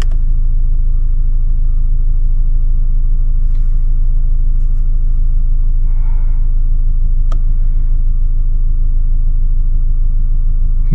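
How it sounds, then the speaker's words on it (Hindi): A steady, loud low engine rumble from an idling Mahindra Scorpio N diesel SUV during diesel particulate filter regeneration, constant throughout with no pauses and no voices. "आवाज देखो कितना कर रही है ना गाड़ी,"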